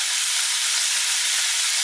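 Onions hit a hot pan of browned pork for stew, setting off a loud, close, unbroken hiss of sizzling that holds steady from start to finish.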